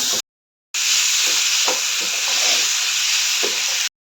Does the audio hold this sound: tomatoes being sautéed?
yes